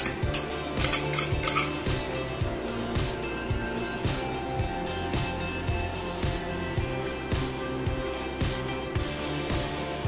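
Fried onions scooped out of a pressure cooker for chicken biryani, a ladle repeatedly scraping and clinking against the metal pot in a rough rhythm, with brisk metallic chinks early on over a low continuous background, no talking.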